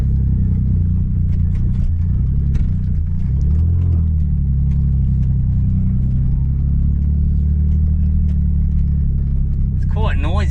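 An off-road Smart car drives around a farm paddock, its engine a steady loud rumble with rattling and clatter from the body throughout, and a voice speaks briefly near the end.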